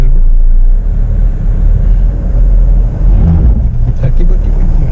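A Jeep Meridian's engine rumbling during slow off-road driving, a loud low drone that swells slightly under light acceleration with road and cabin noise.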